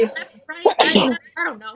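A single sharp sneeze bursts out in the middle of a woman's conversation, loud and close, with talking before and after it.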